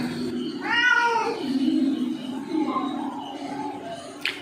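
A cat gives a drawn-out meow close by, followed by softer, lower mewing sounds and a brief sharp click at the end.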